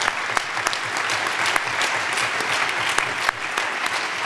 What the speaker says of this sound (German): Einen großen Applaus bitte fürs Team der HTW Berlin.